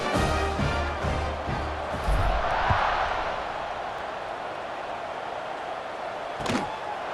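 Stadium crowd from the video game EA Sports College Football 26, a steady broad roar filling the whole stretch with a brief swell near the end, loud and continuous with no talk over it.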